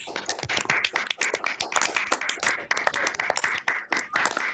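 A live audience at a medical college public lecture in Accra claps in a burst of distinct, closely spaced hand claps, moderately loud and fairly near, with no talk over it.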